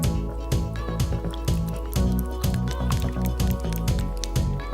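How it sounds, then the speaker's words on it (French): Chocolate ganache is stirred and emulsified as more liquid is poured in, producing wet squelching and clicking strokes in a quick, irregular rhythm close by. "Je verse maintenant la deuxième partie et je continue d'émulsionner."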